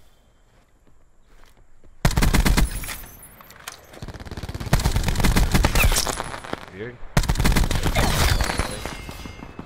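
Rapid automatic gunfire in the video game Black Ops 4 breaks out after a quiet start, in loud dense bursts with short gaps and crackling impacts, while a player speaks briefly.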